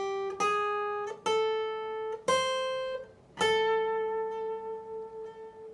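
Slow guitar lead line from the fourth part of a guitar solo: four separate picked notes, each left to ring and decay, the last held longest with a gentle vibrato. Clean, close and unaccompanied.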